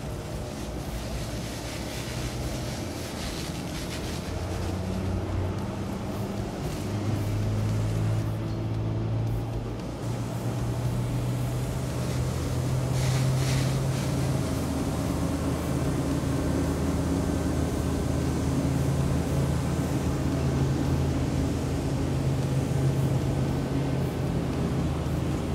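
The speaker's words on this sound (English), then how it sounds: "We're gonna ramp this fire system up and discharge athwartship" Steady, powerful roar of a Munson 40-foot jet-powered fireboat's fire pumps at full power discharging water monitors sideways, a continuous loud rumble of rushing water with engine drone, no speech.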